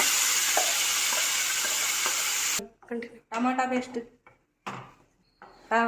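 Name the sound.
tomato paste frying in hot oil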